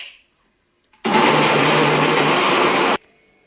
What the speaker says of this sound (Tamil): இதை போட்டு நல்லா மிக்சியில்